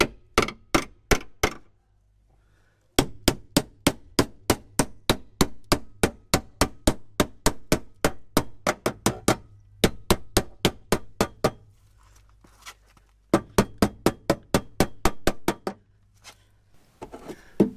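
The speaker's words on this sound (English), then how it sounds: "Hammer time." Repeated sharp metallic hammer strikes ring out in quick bursts, with brief pauses between runs of blows, close and loud, while fitting a mud flap on a lifted truck with 35-inch wheels.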